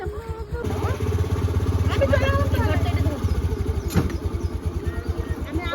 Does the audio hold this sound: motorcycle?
yes